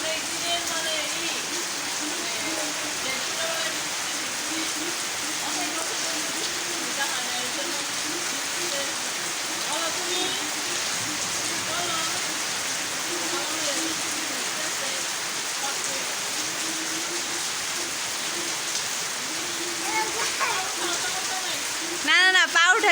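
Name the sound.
rain falling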